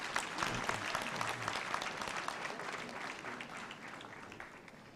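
A crowd at a university graduation ceremony applauds, steady scattered clapping from a large gathering, fairly faint and distant, tapering slightly toward the end.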